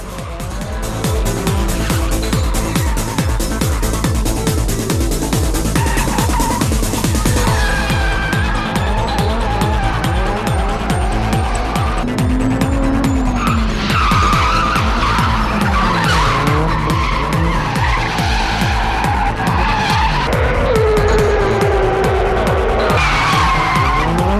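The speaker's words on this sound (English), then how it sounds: "I guess that makes the drivers want to show off their drifting even more" Cars drifting at an underground street racing gathering in Japan, with long loud tire squeals and skidding over roaring, revving engines, continuous and close with shifting pitch.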